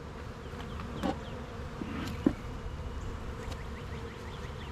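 Honeybees hum steadily around a yellow hive bringing in pollen during a spring inspection, a dense, even buzz with a few louder individual bees passing near.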